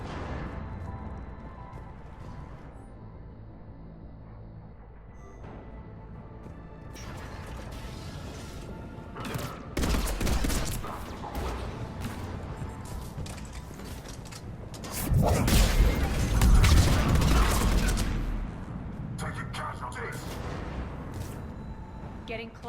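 Heavy cannon fire and gunfire in a Mass Effect 3 battle on Omega: mechanical clanks and creaks give way to loud rumbling blasts around the middle and a long, powerful barrage later, with bursts of fire near the end.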